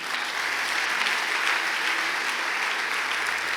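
Sustained applause from a church congregation fills the hall, a dense, steady wash of many hands clapping at close range with no break.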